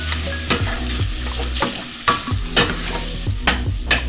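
Sausage frying in a pan for gravy, sticking to the bottom, with a sizzling hiss under repeated sharp spatula scrapes and knocks about every half second, close and clear with no talking.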